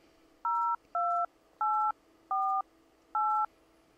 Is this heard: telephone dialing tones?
yes